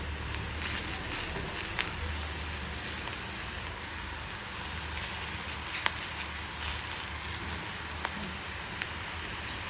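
Crispy onion pakodi frying in hot oil over a low flame, a steady dense hiss with scattered small pops and crackles running evenly throughout.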